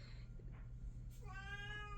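A cat gives one short, fairly faint meow near the end, against a quiet low background hum.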